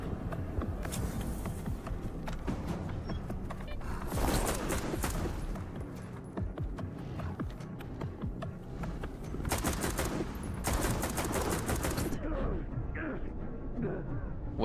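Sustained automatic gunfire in the shooter game STALKER 2 on veteran difficulty, with dense rapid bursts and overlapping shots continuing almost without pause, loud and close.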